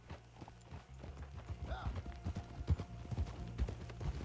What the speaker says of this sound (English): We're stealing horses today.